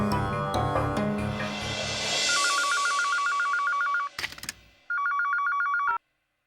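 A telephone number is dialed and the line rings in a Hindi TV drama: rapid dial clicks and tones give way to a steady buzzing ring signal, interrupted by a short burst of clatter, then the ring resumes and cuts off.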